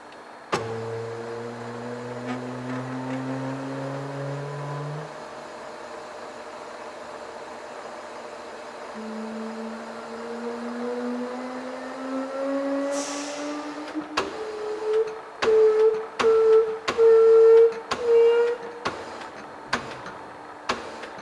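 A milling machine's table feed whines as it moves the workpiece toward the milling cutter, steady motor tones gliding in pitch, followed by a series of sharp clicks and short buzzing pulses.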